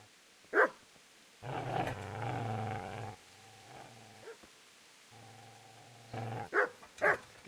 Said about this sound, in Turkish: Köpek sesine gideceğiz abi.